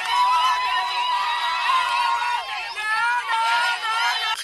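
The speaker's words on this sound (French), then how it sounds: "Cris de joie et danse accompagnent la cueillette des tomates, oignons, ciboulettes, aubergines, gombo et choux." Families at a vegetable harvest of tomatoes, onions, chives, eggplant, okra and cabbage in DR Congo shout and cheer with joy outdoors, a loud, dense crowd of overlapping voices and whoops.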